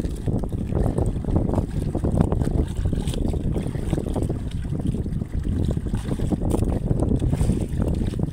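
A boat draws near on open water, its motor a constant rough rumble mixed with wind buffeting and water noise, heard close and fairly loud throughout.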